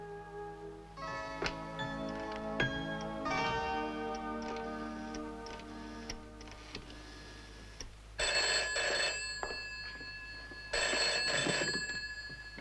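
An old-style telephone bell rings in repeated bursts indoors, mixed with ticking and a soft background hum, moderately quiet, with no one speaking.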